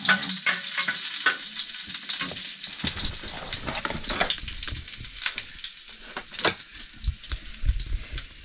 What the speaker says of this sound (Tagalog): Yung bawang, lulutin na natin.